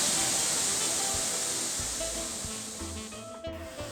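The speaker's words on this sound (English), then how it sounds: "Several days of rain have made the river swell and the waterfall is enormous." A powerful waterfall on the Una river in Bosnia, swollen after days of rain, roars with a dense, continuous rushing hiss, loud and steady throughout.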